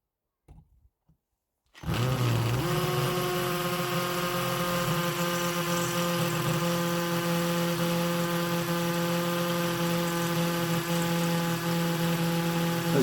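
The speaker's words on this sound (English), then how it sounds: "the drill's now in hammer mode" A Bauker 18V cordless combi drill hammer-drills into solid brick with a 6.5mm masonry bit. After a few faint taps it starts abruptly and keeps up a loud, continuous whining, rattling drone with no talking.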